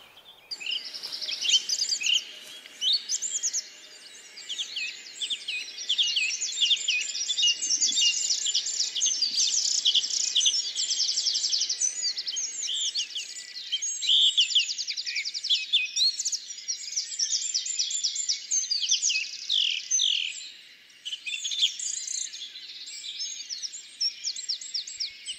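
Many birds singing together in a dawn chorus, a dense, continuous mix of bright chirps and trills that stays steady and close throughout.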